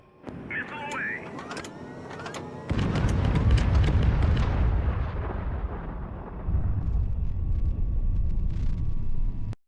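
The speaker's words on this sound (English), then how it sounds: "the second missile stripped off a bunch of armor from the stern of the ship" A missile strikes a ship in HighFleet, setting off a long, loud rumbling explosion that swells, carries on with crackling debris and then fades slowly.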